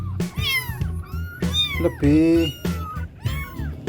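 A young kitten about four weeks old meows repeatedly at close range, several drawn-out rising and falling cries in a row, with a person talking quietly in between.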